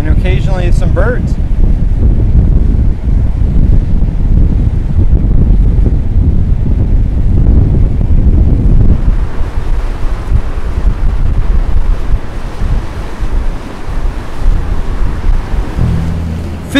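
Ocean waves wash against an island shore under steady loud wind, the rushing surf and gusts filling the scene, easing slightly in the second half.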